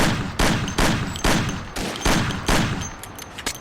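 Gunfire in the Mafia: The City of Lost Heaven video game, a loud burst of repeated shots at a steady rhythm, each crack sharp and decaying, with no voices.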